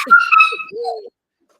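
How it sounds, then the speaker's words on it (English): A dog whimpers in a few high, wavering cries, then gives a short low bark-like yelp, close and fairly loud, with silence after. "That's the dog."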